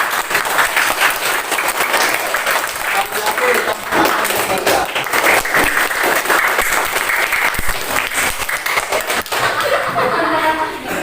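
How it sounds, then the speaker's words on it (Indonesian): A classroom audience gives a lively round of applause after a lesson on ritual bathing, with steady dense clapping throughout and a few voices and light laughter mixed in. "kita berikan dulu tepuk tangan yang meriah."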